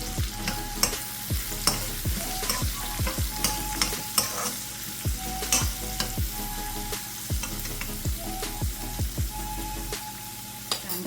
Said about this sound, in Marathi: आता यामध्ये मी दोन बारीक कापलेले कांदे घालत आहे